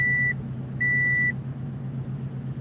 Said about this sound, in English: Why is that beeping? The doors are shut.